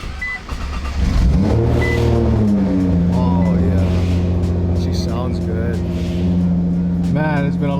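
Widebody Nissan GT-R just back from service, fired up close by: a brief starter crank, then the engine catches and settles into a loud idle broken by several sharp revs, with someone talking over it.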